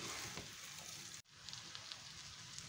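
Cabbage and pancetta sautéing in a pan over medium heat, a close, steady sizzle and crackle that briefly cuts out, then resumes with light stirring ticks.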